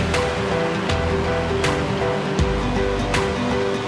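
Ocean waves wash along the coast of the Baja California peninsula, Mexico, as a continuous loud surf roar with a few sharper splashes and no pause.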